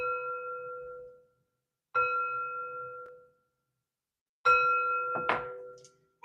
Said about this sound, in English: And three chimes to bring in positive energy.